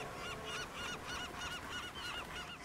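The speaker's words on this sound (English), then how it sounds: "Seagulls. Ugh. Birds." Seagulls calling in Call of Duty Black Ops on Rebirth Island, a flock of repeated honking squawks in quick rhythmic succession, faint and somewhat distant over a low game ambience.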